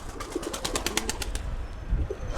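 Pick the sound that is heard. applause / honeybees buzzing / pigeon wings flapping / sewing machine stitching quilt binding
pigeon wings flapping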